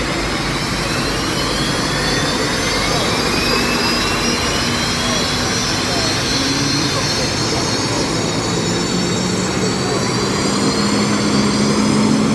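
Turbine engine of an unlimited hydroplane race boat spooling up at a Tri-Cities Water Follies race, a loud steady jet-like roar with rising whine tones across the whole stretch, close by, with voices faintly under it.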